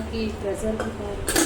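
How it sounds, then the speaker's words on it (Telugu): A steel Pigeon pressure cooker is handled, giving a few light metallic clinks and clanks with a brighter clatter at the end, close by and fairly quiet. "ఇంకా మనకి ప్రెషర్ కుక్కర్"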